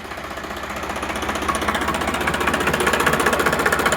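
A Sonalika RX 745 tractor engine, a 2012 model with fresh engine oil and no blow-by, runs nearby in a fast, even diesel chug that builds slightly in loudness, alone without voices.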